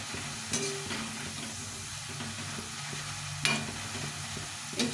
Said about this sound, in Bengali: এই বাকিগুলো এভাবে করে ভেজে নিচ্ছি।